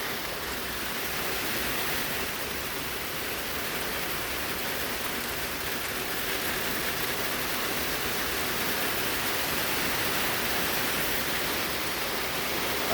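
Rain falls steadily outdoors, a constant broadband hiss of drops on surfaces at even loudness throughout, with no voices over it.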